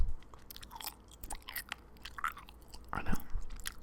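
Gum chewed right at the microphone, giving continuous moist smacking and clicking with irregular rhythm, intimate and fairly loud, no talking.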